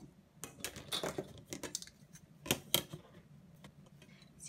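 Scissors cutting through material to make a drawing viewfinder, a run of quick close snips and crisp slicing clicks, quiet and alone without talk.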